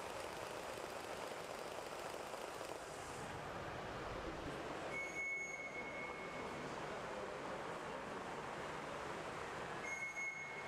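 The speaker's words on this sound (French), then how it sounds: "nous faisons circuler sur nos circuits des trains à l'échelle" A live-steam model train on 45 mm gauge track at a steam club festival, a continuous hissing, rushing rumble with a couple of brief high whistle-like tones, steady and moderately distant.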